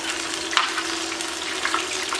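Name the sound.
karaage chicken pieces frying in oil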